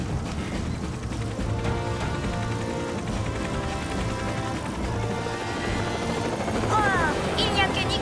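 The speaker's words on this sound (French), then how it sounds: "notre balade en hélicoptère" A helicopter's rotor thrums steadily and loudly throughout, with people talking under the noise.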